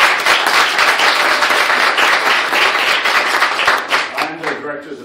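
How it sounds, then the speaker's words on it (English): An audience claps for event staff at a bicentennial kickoff gathering, a loud, dense burst of applause that fades in the final second as a voice starts to speak. "So let me invite applause for them."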